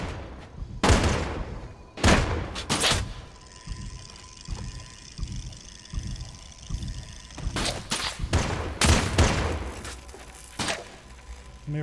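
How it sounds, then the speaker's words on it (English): Gunfire in the Worlds Adrift airship game as enemies shoot at the player's fuel tank: loud, sharp broadband bursts in clustered volleys separated by pauses, with a steady mechanical hum underneath. "he's breaking our fuel tank."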